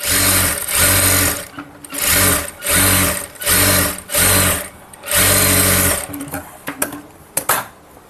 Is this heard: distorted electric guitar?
no